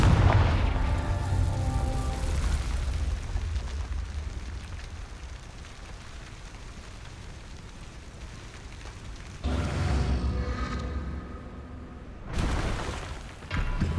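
A Confringo fire spell from Hogwarts Legacy bursts in a deep boom at the start and fades into a long rumbling tail, followed later by two more heavy blasts.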